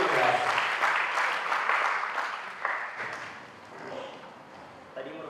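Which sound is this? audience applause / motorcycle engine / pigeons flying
audience applause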